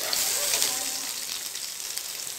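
Frying in a pan while making paneer fried rice gives a soft, continuous hissing sizzle, fairly quiet and steady, with a voice talking over it briefly.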